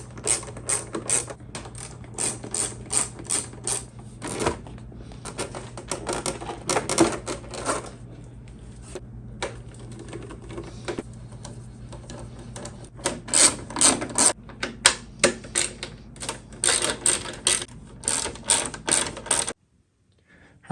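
Ratcheting tool clicks while T25 bolts come out of a 2010-2014 BMW S1000RR motorcycle, with bursts of rapid close clicking separated by pauses and light metallic handling sounds, no voices.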